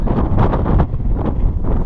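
Strong wind buffeting the microphone in loud, rumbling gusts on the Hadrian's Wall Path, continuous and close, with no other clear sounds.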